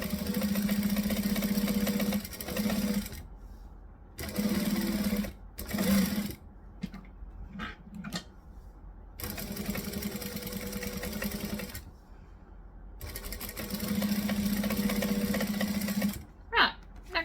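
A sewing machine stitches in long steady whirring runs, stopping and restarting with short gaps and brief clicks between bursts, close and clear with no talk.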